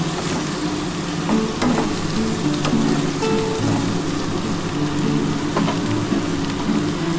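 Eggplant, potato and pumpkin fry in a pan with a steady, close crackling sizzle, a faint hiss like light rain, and a few quiet stirring clicks, with no talking.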